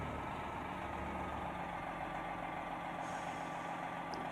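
A heavy truck's diesel engine idles steadily in American Truck Simulator, a continuous low rumble with no break, with a faint air-brake hiss near the end and no talking.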